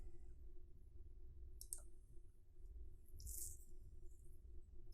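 Two sharp, quiet computer mouse clicks about a second and a half apart, over a low steady background hum with no speech.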